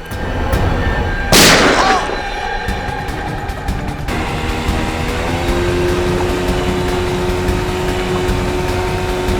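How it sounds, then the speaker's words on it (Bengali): A loud, sharp blast from a TV drama shootout rings out, followed by a rumbling, noisy tail and steady background hum, with no clear further shots. "ও গুলি করছে, গুলি"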